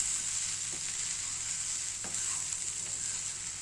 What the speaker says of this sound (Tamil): இப்போ நல்லா ஃப்ரை ஆயிடுச்சு முட்டையை ஆட் பண்ணிடலாம்